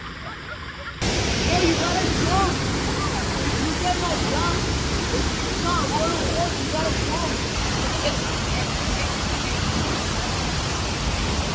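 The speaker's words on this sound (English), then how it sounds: "this waterfall is crazy. It's the craziest waterfall I've ever seen in my life" La Fortuna waterfall in Costa Rica gives a loud, steady broadband roar of crashing water that starts abruptly after a second, with voices faintly audible over the rush.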